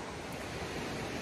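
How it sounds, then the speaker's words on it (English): A river rushes beside a trail shelter on a mountain hiking trail, a steady, dense broadband wash of flowing water that fills the whole stretch without pause, with no voices. "The shelter's right on the river."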